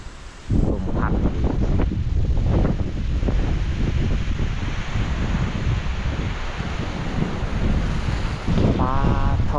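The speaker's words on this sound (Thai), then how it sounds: "ลมพัด" Strong wind gusting beside a small river in the forest under dark skies, loud buffeting rushes across the microphone with brief swells and lulls throughout, and no talking.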